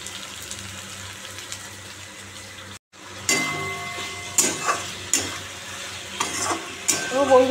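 Spiced rohu fish with drumsticks sautés in a pan, giving a constant sizzle and repeated scraping stirs. The sound cuts out briefly partway through and then comes back livelier, with no talking.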